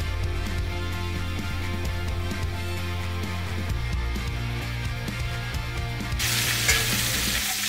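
Potatoes fry in oil and butter for a simple homemade stir-fry, giving a continuous sizzle over a steady low hum, with a brighter burst of crackling near the end.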